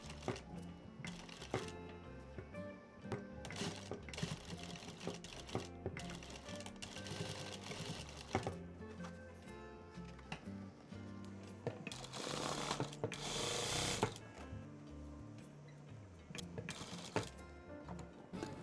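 A sewing machine stitches a thick denim handbag handle in bursts of rapid mechanical chatter, which briefly louden and quicken near the end, over steady background music.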